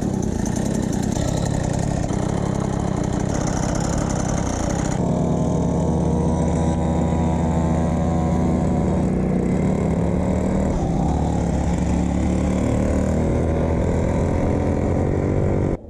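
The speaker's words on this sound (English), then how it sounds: "So this is test one of me starting it." A 49cc two-stroke pocket bike fitted with a big bore kit runs steadily after starting, a loud, buzzy mid-pitched engine note that shifts slightly in tone partway through and holds on without any talk.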